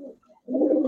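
A racing pigeon coos at a pigeon dealer's shop: a short, close, low coo in two soft bursts with a brief pause between them.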